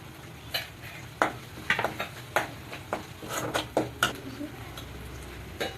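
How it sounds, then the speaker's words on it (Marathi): Onion paste being stirred in a kadhai with oil and a little butter, giving repeated scraping and clinking strokes at a steady rhythm over a soft, constant sizzle. "कांदे चांगले बदामी रंग येईपर्यंत हलवायचं। थोडंसं बटर टाकायचं।"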